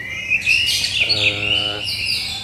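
Orange-headed thrush singing loud and close in a continuous stream of whistled, warbling phrases, rising and falling over a steady background hum.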